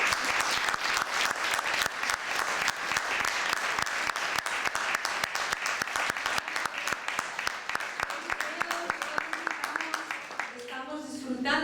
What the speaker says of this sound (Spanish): yo quería pedir un aplauso para nuestra invitada